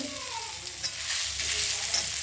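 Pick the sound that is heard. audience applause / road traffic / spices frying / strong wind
spices frying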